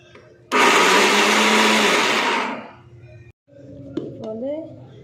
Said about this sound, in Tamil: முதல்ல மிக்சியில் பலாப்பழத்தை அடிச்சுக்கிடுவோம்.